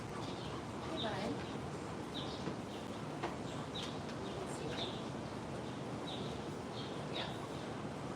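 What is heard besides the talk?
birds chirping outside in the city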